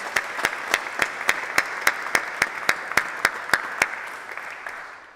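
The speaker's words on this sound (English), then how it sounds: "Can we give them a round of applause?" Steady rhythmic clapping at a college graduation ceremony, crisp evenly spaced claps in unison over a soft crowd wash that fades out near the end.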